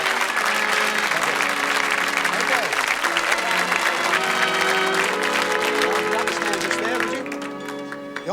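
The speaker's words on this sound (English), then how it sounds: "Give them a round of applause, folks." Loud, sustained studio audience applause fills a 1979 British TV game show, dense steady clapping that eases slightly near the end.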